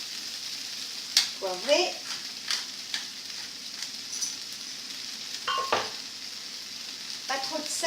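New potatoes fry and brown in a pan with a soft, continuous sizzle, broken by intermittent scrapes and clinks of stirring, while a person talks over the cooking.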